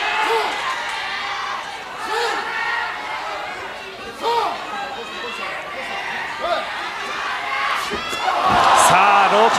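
A wrestling crowd at Korakuen Hall chants and roars for Masanobu Fuchi during his July 1991 bout with Toshiaki Kawada, a loud, steady din that swells near the end while a commentator talks over it.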